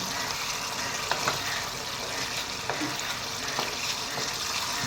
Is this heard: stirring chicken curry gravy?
yes